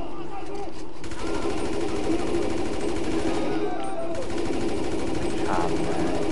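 Rapid gunfire from a firefight in the Grand Theft Auto V video game, loud, dense bursts running continuously throughout, with a voice partly audible underneath.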